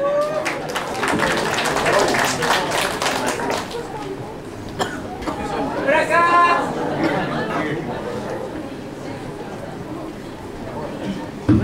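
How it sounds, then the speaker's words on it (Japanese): An audience claps for a newcomer being introduced at a community gathering: a dense burst of hand claps for the first few seconds, then chatter and voices over a thinner patter of applause. "拍手。"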